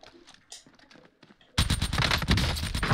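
Nail gun fire in Call of Duty Warzone, a loud burst of rapid repeated shots that starts abruptly halfway through and continues steadily after a quiet stretch.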